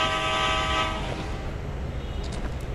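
A train's horn blares loud and steady for about a second in a video game, then fades into the rolling rumble of passing railcars.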